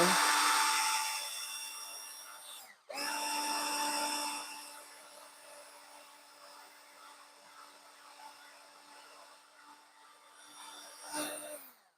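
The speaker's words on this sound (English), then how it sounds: "Make sure the drill is going the right direction." A power drill whines steadily at close range while building a painting rack, running in long sustained stretches, pausing briefly, then revving again before stopping.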